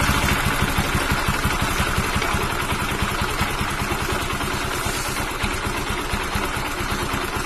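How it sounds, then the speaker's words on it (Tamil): A Bajaj Pulsar 135LS four-valve motorcycle engine idles after a valve adjustment, with a steady, even low thrum and a light mechanical clatter running close and continuous throughout, with no talk. "வண்டி ஸ்டார்ட் ஆகிட்டு சவுண்டு அந்தளவுக்கு இல்லைன்னே சொல்லலாம்"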